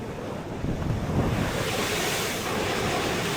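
Rough sea surf pounds the Australian coast on the Adelaide to Perth road trip, a loud, continuous roar of crashing waves mixed with strong wind buffeting the microphone.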